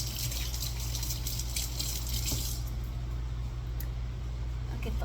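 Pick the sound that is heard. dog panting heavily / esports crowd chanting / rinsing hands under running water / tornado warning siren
rinsing hands under running water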